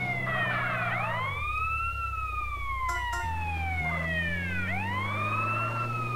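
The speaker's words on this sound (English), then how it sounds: "There's an ambulance." Wailing ambulance siren in the video game GTA San Andreas, sweeping up and down in long repeated cycles over a low engine hum, steady and fairly close, with no talking.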